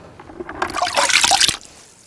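Water poured into a pot for cooking crab inside a camper van: a brief rushing splash of liquid that builds and cuts off after about a second, close and fairly loud.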